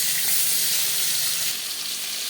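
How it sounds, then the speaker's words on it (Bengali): Four prawns fry in hot mustard oil in a pan, giving a loud, steady bright sizzle with crackling spits throughout, easing slightly toward the end, no voices. "দিয়ে দিলাম সর্ষের তেল, ভেজে নেব চিংড়ি মাছ"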